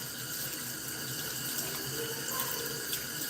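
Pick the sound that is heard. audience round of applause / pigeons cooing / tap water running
tap water running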